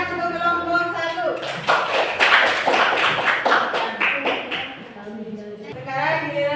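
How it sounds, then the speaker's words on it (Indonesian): Classroom applause for a student group during an Islamic jurisprudence lesson, a burst of many hands clapping for a few seconds before fading, with a teacher's voice over the start and the end. "tepuk tangan untuk kelompok 1."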